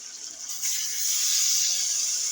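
Water steadily draining and hissing out of boiled taro greens, a continuous soft trickling rush close by with no talking.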